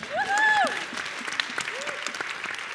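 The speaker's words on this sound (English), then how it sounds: "Clap for her." Audience applause for a panelist at a film festival panel, scattered clapping beneath a loud whoop or cheer at the start, then settling into steady moderate claps.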